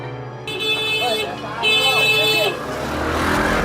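A motorcycle engine runs steadily up close while people talk over it, with bright, sustained horn-like tones sounding twice.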